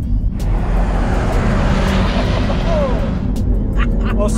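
A Land Rover Defender 110 P400 engine revs hard at high rpm, a loud, steady roar with road noise as the vehicle drives at speed, continuous throughout without any talk.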